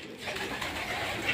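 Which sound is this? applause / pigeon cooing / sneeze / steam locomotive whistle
pigeon cooing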